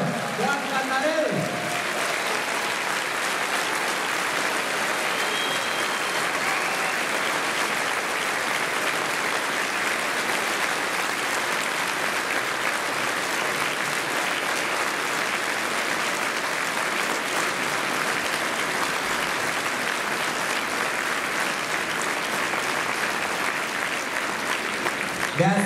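Applause from a large concert audience welcoming maestro Juan Cantarel at a holiday show in Bacău, a loud, dense, continuous roar of clapping sustained for about twenty-five seconds.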